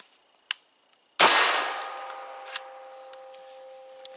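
A RIA VRBP100 12-gauge shotgun fires a single loud blast with a long metallic ringing tail, preceded by faint clicks and followed by light clinks as the action cycles and the shell is thrown out the front.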